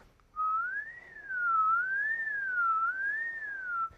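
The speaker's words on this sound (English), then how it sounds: "It's if I whistle," A person whistles a single steady tone that wavers gently up and down in pitch, clear and close, held alone for several seconds.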